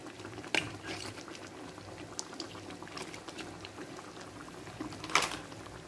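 Coconut milk for Indonesian opor ayam simmers in a pot, a soft continuous bubbling with sporadic louder pops and a couple of clinks, close and steady, with no talking.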